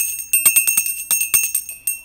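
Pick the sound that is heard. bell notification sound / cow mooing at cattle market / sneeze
bell notification sound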